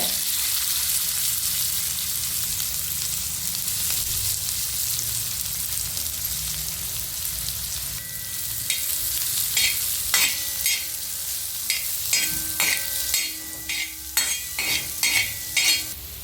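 Cumin, asafoetida and onion frying in hot oil make a steady, loud, close sizzle, joined midway by a run of metal spoon clinks and scraping stirs against the pan.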